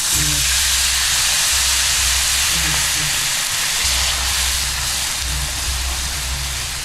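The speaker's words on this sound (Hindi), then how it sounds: "अब डालेंगे दूध।" Milk poured into a hot pan of butter and hash over a low flame, giving a steady loud sizzling hiss that fills the whole stretch with a low rumble beneath.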